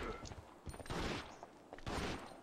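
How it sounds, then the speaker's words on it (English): Gunfire in Resident Evil Outbreak as zombies are shot, several sharp bursts close together over about two seconds, with muffled voices chatting underneath. "Actually, I'm gonna shoot them."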